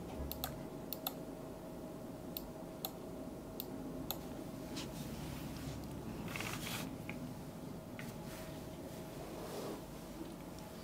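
Typing on an Epomaker Shadow-S mechanical keyboard with flamingo switches, a steady patter of soft keystroke clicks over a low constant hum, fairly close and even throughout with no voices.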